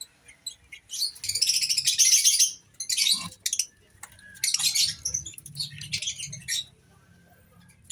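Small birds in a home aviary give bursts of high, rapid chirping and twittering, loud and close, with short quiet gaps between the bouts.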